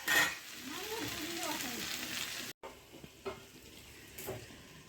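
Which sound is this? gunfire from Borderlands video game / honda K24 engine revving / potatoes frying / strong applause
potatoes frying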